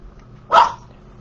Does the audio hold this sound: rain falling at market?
no